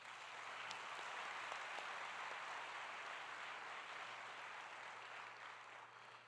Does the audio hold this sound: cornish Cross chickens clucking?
no